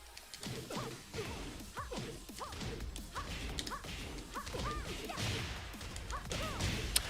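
Julia Chang's launcher combo in the Tekken fighting game lands as a fast series of whooshing strikes and smacking hits in an uneven rhythm, moderately loud under a busy game backdrop, with no talking.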